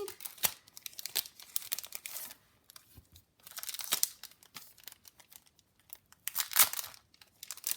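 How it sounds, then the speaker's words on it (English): Plastic packaging crinkling and tearing as veggie flake stickers are unboxed, close and loud in several separate bursts with quiet gaps between. "Sorry for the crinkle."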